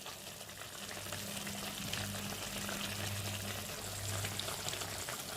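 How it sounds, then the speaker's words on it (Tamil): Tomato chutney simmers and bubbles in a pan, a soft, steady crackling sizzle with a faint low hum under it. "நல்லா கொதிச்சு வரட்டும்."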